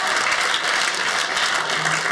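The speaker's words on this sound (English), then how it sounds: "Clap your hands if you were scared of your parents." A comedy show audience claps together, producing a dense, steady burst of applause that fills the room.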